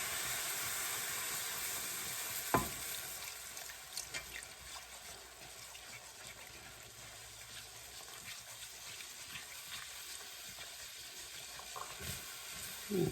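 Beef broth from a 14.5 ounce can being stirred into cube steak in a hot pan, a steady broad sizzling hiss with a few faint clinks of the spoon, no talking.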